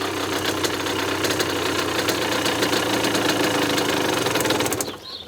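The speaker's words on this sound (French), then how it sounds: "ça c'est quand un ralenti est trop bas" 50cc moped engine idling too low after its carburettor is adjusted, a loud, close, uneven putter with irregular knocking that drops off abruptly near the end as the engine nearly stalls.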